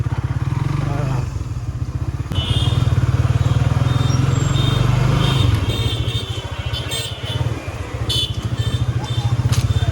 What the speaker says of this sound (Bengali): আমাদের অভিজ্ঞতা আছে আগে থেকেই এইভাবে সোয়া বাইকটা ঘোরানোর